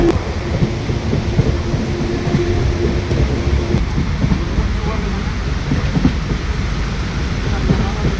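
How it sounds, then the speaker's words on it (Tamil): Heavy rain roars steadily throughout, heard during a train journey to Thenmala, a dense low rumble that could be thunder underneath, with no clear breaks across the clip. "பாருங்க மழை எப்படி பெய்யுது"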